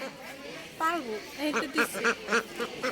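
Ducks quack in a quick series of short nasal calls, fairly close, with a person's voice briefly heard among them.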